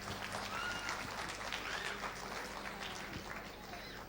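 An audience claps to welcome a speaker at a public meeting, a faint, distant, diffuse patter of hands held steady throughout with a low murmur beneath.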